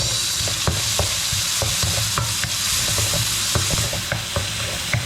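Garlic, onion and tomato sautéing in a pan, a steady loud sizzle with repeated scraping stir strokes throughout, no talking.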